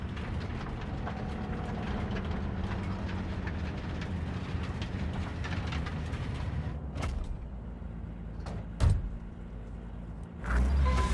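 A train in Cyberpunk 2077 rumbles steadily with a dense, continuous rolling roar, then thins out into quieter running noise punctuated by a few sharp clanks and a swell of rumble at the end.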